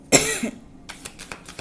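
A single sharp cough bursts out close by, followed by a few faint breathy sounds and small throat noises.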